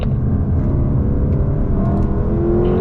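A Lexus car under acceleration on the Laguna Seca race track, heard as a steady, loud, low engine drone with a slight rising pitch, continuous and close, likely from inside the car.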